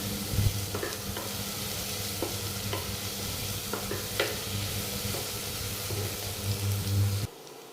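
Onions sauté in a pan for a beef stew, giving a steady close sizzle with occasional stirring scrapes that runs without pause until it cuts off at the end.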